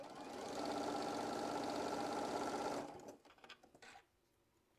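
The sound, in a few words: sewing machine stitching down quilt pieces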